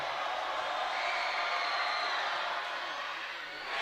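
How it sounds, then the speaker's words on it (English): A loud crowd roars in the gym at Ankeny Centennial during a high school basketball game between Dowling and Ankeny Centennial: a steady, dense wash of cheering and crowd noise with no clear breaks, and no distinct speech. "Loud crowd here at Centennial."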